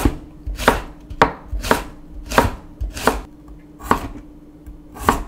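A Chicago Cutlery kitchen knife chops vegetables on a board in a steady series of crisp, close chopping strokes, roughly one every half second, with no talking.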